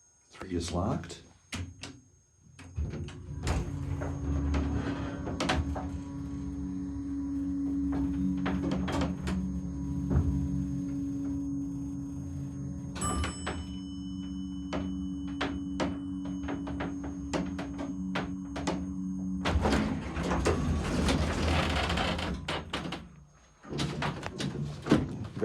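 Vintage Colley hydraulic elevator door sliding shut on an impatient timer, with a clunk and rumble amid a steady machine hum, followed by a short bell-like chime; someone talks throughout.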